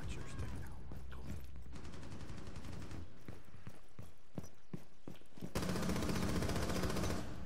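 Gunfire in Rainbow Six, with rapid automatic bursts and a string of separate sharp shots, close and loud over continuous game background noise, ending in a dense burst of fire.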